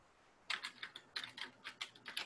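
Typing on a computer keyboard, with about a dozen sharp, close key clicks in an uneven rhythm after a short pause, including a press of the enter key, and no voices.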